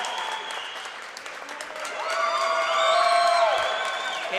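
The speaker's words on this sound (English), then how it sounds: "The crowd is electric here for Petrus with the pin on senior day." A crowd at a high school senior day wrestling meet cheers and applauds a pin, a loud swelling roar with whoops and clapping that builds toward the end.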